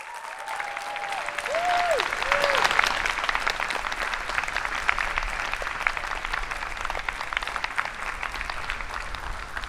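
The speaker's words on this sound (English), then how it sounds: "So I'd like a very large round of applause to the families." Steady applause from a large crowd at an art school commencement, a dense clapping wash that holds for the whole stretch, with a few faint tones at the start.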